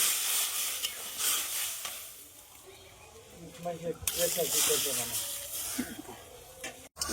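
Tomatoes are stirred into a sizzling pot of chicken stew, then water is poured in. The hiss settles into a wet, bubbling stir, with scraping and a brief splash toward the end. Faint talk runs underneath.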